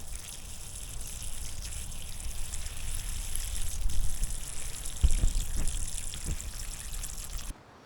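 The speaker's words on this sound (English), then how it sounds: "I think it's getting heavy because the water's coming around. Yep, there it comes." Water trickles and gushes from a pipe into a storage tank after being pumped uphill, a steady wet flow close by with a few louder splashes toward the end.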